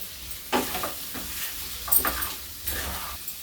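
Spices with kasuri methi and garam masala fry in a pan for dum aloo, giving a soft steady sizzle with several scraping stirs of a spoon at close range, no voices.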